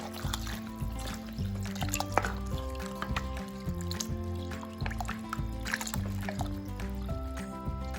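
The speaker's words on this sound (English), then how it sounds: "I'm also going to add the stock" Stock pouring into a big pot of lentil soup, a steady liquid trickle and splash lasting several seconds over a low tonal background hum, close and moderately quiet, with no voices.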